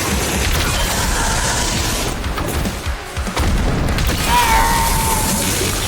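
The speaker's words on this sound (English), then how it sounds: "you just use those saved up BFC shots to instantly eliminate them" Heavy BFC weapon blasts in the video game DOOM The Dark Ages form loud, dense booming bursts, with a brief dip in the middle before another powerful roaring shot.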